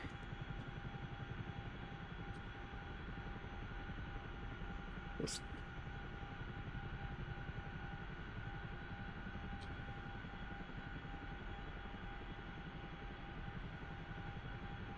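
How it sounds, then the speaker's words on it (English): Aircraft flying over a runway in the DCS flight simulator game, a steady droning engine hum that stays constant throughout with a few faint clicks, while a person briefly speaks. "One's landing or taking off, so plane going over the runway."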